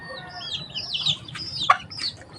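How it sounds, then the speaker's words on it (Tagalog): Soft, scattered chicken clucks and chirps over low background noise, with a slightly louder squawk near the end. "pakain tayo ng ating alagang mga manok"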